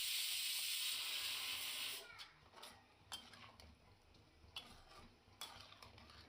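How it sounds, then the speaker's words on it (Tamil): Prawn masala being stirred in a pan over a high flame, with an initial steady sizzling hiss followed by scattered scraping and clinking of the spatula against the pan. "மசாலாவோட மிக்ஸ் ஆகிற மாதிரி நல்லா கிளறி விட்டுக்கோங்க."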